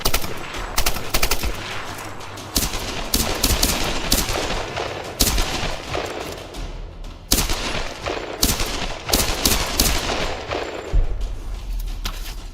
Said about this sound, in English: But this gun is very loud